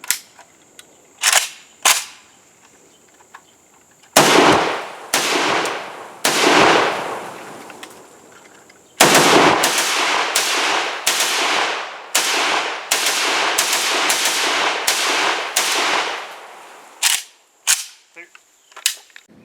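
A Cugir WASR-10/63 AK rifle fires at an outdoor range: a few separate shots, then rapid strings of sharp, loud cracks with brief pauses between bursts, ending in scattered single shots.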